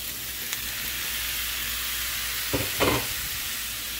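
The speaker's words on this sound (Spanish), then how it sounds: "Ya le puse el chile y la cebolla ya se tronaron un poco ahora le voy a poner el tomate" Chile and onion sizzling in a frying pan as tomato goes in, a steady soft hiss with a few brief clatters and stirring scrapes near the end.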